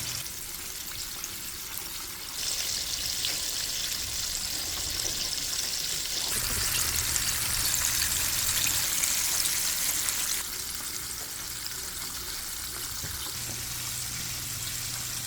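Chicken breasts and thighs deep-frying in oil, a steady broadband hiss that swells louder midway and then eases back, continuous and close with no talk.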